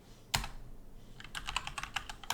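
Keys clatter on a computer keyboard: one sharp tap, a short pause, then a quick run of light, rapid keystrokes close to the mic, with no talking.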